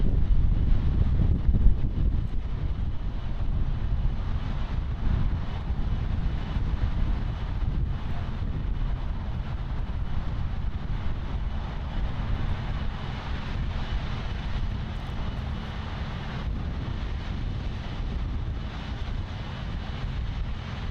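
An airliner, flight QT4057 bound for Manus, departs Miami International Airport, its engines a steady, broad roar that holds for the whole stretch with wind buffeting the microphone and no voices.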